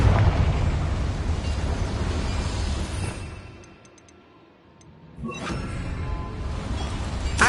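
A Confringo blasting spell explodes in Hogwarts Legacy with a heavy rumbling boom that fades into a brief quiet lull, followed by a second burst of crackling blast noise, fairly loud and with no talking.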